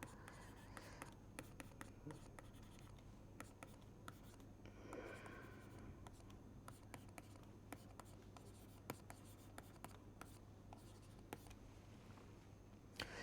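Chalk or marker writing on a board during a dynamics lecture, heard as a long run of quiet, irregular taps and scratchy strokes over a low background hum.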